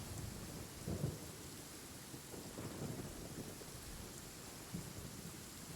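Steady rain pours throughout a Genshin Impact game scene, with low thunder rumbles swelling near one second, around three seconds and again near five seconds; fairly quiet overall, no voices.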